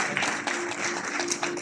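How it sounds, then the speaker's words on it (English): Audience applause for a guest being welcomed at a brain fitness technology launch event, a steady wash of many hands clapping at moderate distance with a few sharper claps standing out. "A big round of applause for ma'am's presence out here."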